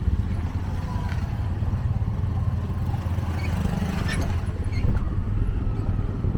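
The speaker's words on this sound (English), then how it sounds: "That's what happens when you ride in a tuk-tuk." A tuk-tuk's small engine drones steadily on a bumpy road in Thailand or Cambodia, loud and continuous, with low rumble and occasional rattles and clatter from the jolting ride.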